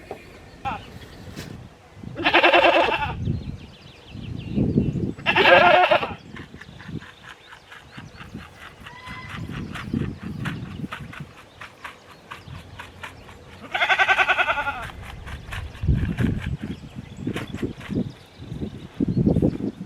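Young buck goats bleat several times at close range, loud separate calls with pauses, mixed with rustling and shuffling movement nearby.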